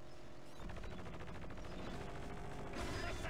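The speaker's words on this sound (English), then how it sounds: "Detonation in 5 seconds! Take cover!" Demolition charges detonating in the Battalion Wars video game, a dense continuous crackle of blasts and gunfire that swells louder near the end, with no break in the clutter.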